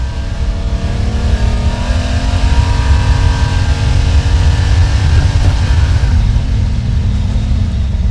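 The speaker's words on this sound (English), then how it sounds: "As the old Impala rushes up on the RV" Old Impala car rushing up behind an RV in a film chase scene, a loud, steady engine roar with rising revving tones sustained throughout, no voices.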